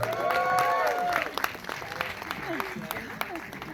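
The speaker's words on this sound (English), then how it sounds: "Let's give a round of applause for this amazing panel." An audience at a film festival Q&A applauds the cast panel, a loud burst of clapping and cheering that fades within a couple of seconds, with excited voices and shouts mixed in.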